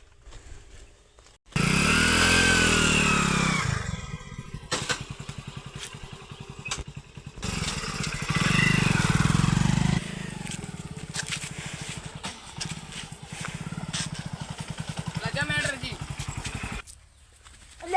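A motorcycle engine idles and revs nearby in uneven bursts, with people talking over the rumble at times.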